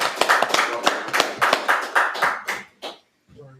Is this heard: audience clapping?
yes